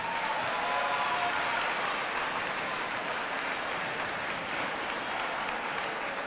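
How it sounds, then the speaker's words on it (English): Audience applause for school board members at a school event, a steady dense wash of many hands clapping at moderate volume throughout, sounding somewhat distant and hall-like. "Let's give them a nice round of applause."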